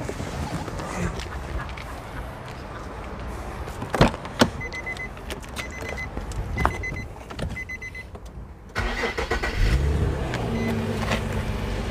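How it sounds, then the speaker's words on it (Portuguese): Power window on an Infiniti FX35 luxury SUV whirs open in short motor bursts with clicks, heard close inside the cabin, before louder engine and road ambience take over near the end. "deixa eu abrir um pouco esse vidro."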